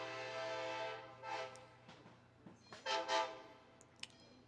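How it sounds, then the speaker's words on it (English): A Louisville and Nashville train passes near a record store, its horn sounding in loud swells with a steady low rumble of rail cars underneath and scattered clicks and clanks. "I'm sure y'all can hear the train coming. He's been blowing the horn for 5 minutes"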